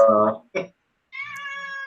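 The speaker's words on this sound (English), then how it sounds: "Got one of the cats breaking into my room." A house cat meows indoors in a few close, loud calls: a long harmonic cry, a brief second yelp, then a drawn-out tonal meow after a short pause.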